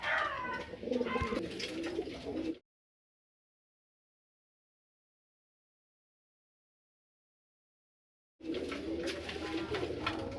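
Competition doves cooing close by in soft, repeated coos with some chirps, heard in two stretches separated by a long silent gap in the middle.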